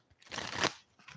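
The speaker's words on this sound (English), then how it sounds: "Let me do a live shuffle" A deck of cards riffled in one quick burst, a crisp rustling flutter that swells and cuts off, followed by a faint softer rustle; no talking.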